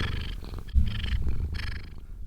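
A cat purrs close up in a loud rhythmic rumbling purr, pulsing with its breaths and swelling in strength partway through, with no voices over it.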